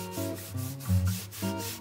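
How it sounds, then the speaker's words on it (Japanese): Olive oil is rubbed by hand onto wood sanded with 120-grit paper over a plugged screw hole, giving close, steady rubbing strokes in short repeated passes. "わかりやすくオリーブオイルを塗ってみます"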